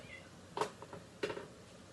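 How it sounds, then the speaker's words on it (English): Two short cat meows, separated by a brief pause, fairly close with no talking. "My cat keeps meowing at me."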